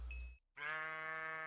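A Minecraft sheep gives a single clear bleat, close and alone, following a short burst of game sound and a brief silence.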